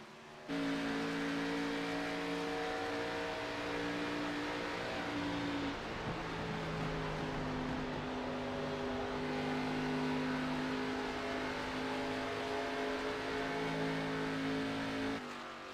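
ARCA stock cars race around an oval at Charlotte in a racing video game, a loud, continuous engine roar with layered, steady tones from several cars running together.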